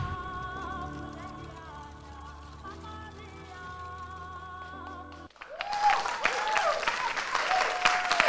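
An audience at the Ghana's Most Beautiful pageant show breaks into loud, sustained applause for a guest judge after a stretch of quiet music, the clapping dense and close.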